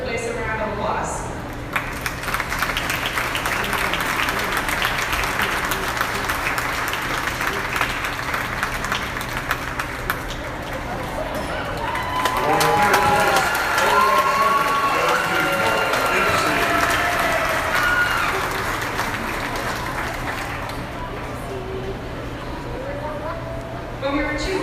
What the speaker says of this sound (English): So let's give this 3rd place a round of applause.